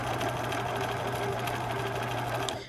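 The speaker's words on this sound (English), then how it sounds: "I can just start sewing again." Bernina 1005 sewing machine running a wide zigzag stitch, a close, steady mechanical whir and rapid needle clatter that continues evenly and stops at the end.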